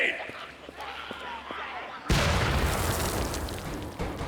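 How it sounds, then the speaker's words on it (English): Grenade blast in the zombie shooter Contagion, Left 4 Dead campaign: a sudden loud broadband boom midway that cuts over quieter ambience and thuds, then decays into a long rumbling roar. "Grenade!"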